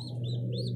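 An injured pigeon chick with a wounded body gives a thin, steady calling close by, with a constant low hum underneath and no talking.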